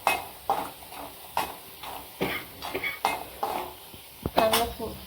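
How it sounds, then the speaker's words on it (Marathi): Whole lumps of asafoetida dry roasting in a pan for homemade masala powder, with repeated scraping and stirring clatter of a spatula against the pan and faint sizzle, close and intermittent. "आता खडा हिंग भाजूया, तो चांगला फुलेपर्यंत चांगला भाजून घ्यायचा।"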